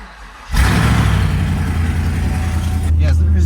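A cheap truck bought from a Copart salvage auction, running with no exhaust and no catalytic converters, cranks over and catches, then settles into a loud, rough, steady idle at close range.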